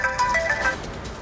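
A phone ringtone plays a short bright melody of electronic tones, ringing out clearly over a quiet room before cutting off partway through.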